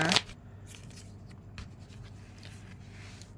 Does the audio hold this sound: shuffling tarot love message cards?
yes